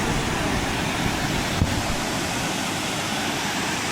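Continuous roar of a waterfall at a hanging bridge in Goa, a steady broadband rush of falling water heard close and loud throughout, with a brief thump partway through.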